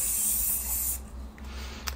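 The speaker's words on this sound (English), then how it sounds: "I spray the inside of them with" A spray bottle hisses a short continuous burst into the inside of a waist trainer, close and fairly loud, then fades to quiet rustling.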